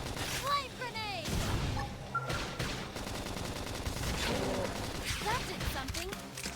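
Rapid bursts of gunfire and explosions in Xenoblade Chronicles X: Definitive Edition rattle continuously, dense and loud, mixed with synthetic effects and a voice heard under the action.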